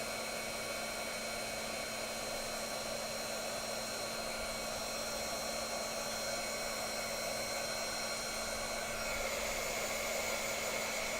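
A heat embossing tool blows hot air over embossing powder, a steady, close whirring drone like a small hair dryer that runs unbroken for the whole stretch with a slight shift near the end.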